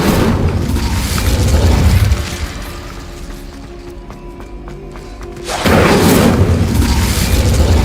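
A fire spell cast in Hogwarts Legacy, a Harry Potter video game, bursts out as a loud whooshing, booming roar. It eases into a quieter stretch and then flares up again, with no talking.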